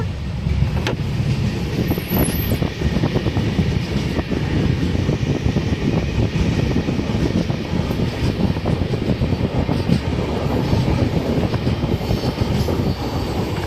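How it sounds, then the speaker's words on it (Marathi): Continuous rhythmic clatter of train wheels on the track as a train slows down, a close, loud rumble heard from inside a carriage, with a brief high squeal early on. "स्लो झाली आहे ट्रेन ना"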